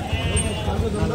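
Goats bleating at the Kadiri goat market, a crowded outdoor livestock sale, with one clear bleat rising over a constant murmur of voices and market noise.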